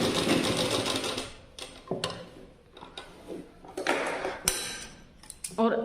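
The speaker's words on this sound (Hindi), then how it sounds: "सिलाई लगा लेनी है।" Sewing machine stitching a young girl's shirt fabric, its motor running in uneven bursts with brief stops and restarts, close and fairly loud with light clicks of handling between runs.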